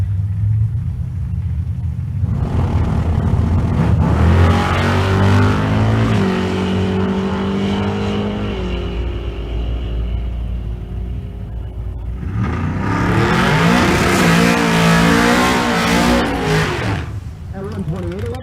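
A naturally aspirated small block drag race car at Kearney Raceway Park roars hard under acceleration, a loud sustained engine rumble with rising revs, then a second burst of revving near the end, under an announcer's talk.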